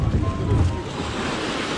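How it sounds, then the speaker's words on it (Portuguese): Ocean surf breaking near a beach while kayaking off São Vicente, a loud, close rush of waves with heavy wind buffeting the microphone, surging at first then settling into a steady roar. "Vai quebrar a ondinha, cadê a ondinha?"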